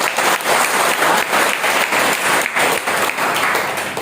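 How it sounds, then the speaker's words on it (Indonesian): A church congregation at a women's commission anniversary service claps together, loud close applause with a pulsing, roughly rhythmic beat, sustained throughout. "Mari kita beri tepuk tangan."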